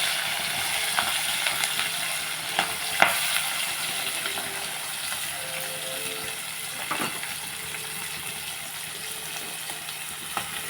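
Cumin, green chilli and onion sputter and fry in hot oil, a steady close crackling hiss with occasional sharp pops and a few spoon scrapes against the pan.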